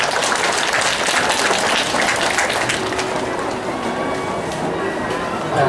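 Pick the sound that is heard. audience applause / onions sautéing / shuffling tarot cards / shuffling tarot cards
audience applause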